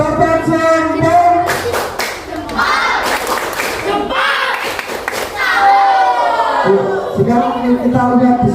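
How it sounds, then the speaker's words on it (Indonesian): A school class does a rhythmic thumb clap for a group, bursts of patterned clapping near and loud, mixed with children's voices and shouts between the beats. "Yang kita tepuk jempol untuk kelompoknya Mas Galang."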